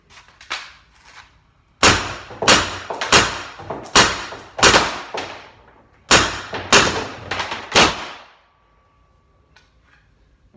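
A Pepperball VKS with a 9.5-inch barrel tuned to over 100 joules fires loud, sharp shots in two fast strings of about six, each crack followed by a brief ringing tail, with a few quieter pops before and after.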